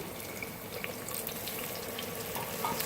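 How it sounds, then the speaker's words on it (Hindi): Water is poured into a cooking pot of aloo baingan (potato and eggplant curry), producing a steady, soft rushing and sizzling hiss with a few small splashes, with no talk. "थोड़ा सा पानी शामिल करेंगे।"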